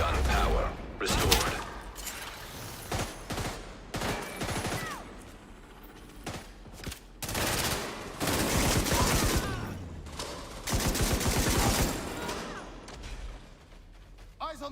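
Sustained gunfire in The Division 2 comes in heavy bursts of rapid shots with short pauses between them, loud and close, partly under talk.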